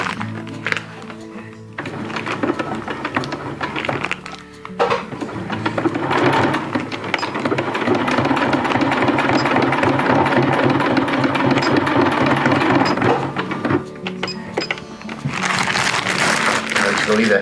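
A sewing machine stitches Dyneema stuff sack webbing in steady, rapid mechanical bursts that start and stop, with a person talking over parts of the stitching.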